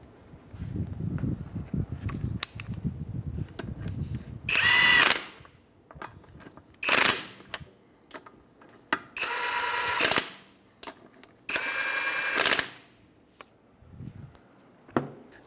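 A power tool snugs up the lug nuts on a raised 2007-2015 Mazda CX-9 after a wheel hub and bearing replacement, firing four short, loud whirring bursts separated by quieter shop noise.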